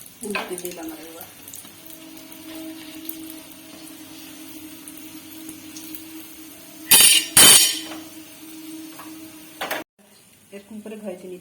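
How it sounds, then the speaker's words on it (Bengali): Mughlai paratha frying in oil in a wok, a steady close sizzle running throughout with a couple of sharp louder bursts near the end as it is flipped or lifted. "এরকম করে ভেজে নিতে হবে।"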